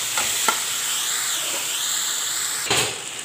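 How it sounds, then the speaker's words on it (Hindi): Onion and tomato masala for pav bhaji frying in oil, a steady close sizzle with a few scraping stirs of the spoon, one sharper stir near the end. "इसी टाइम पे हम अपने टमाटर डाल देंगे और इसको अच्छे से हिला लेंगे और भून लेंगे"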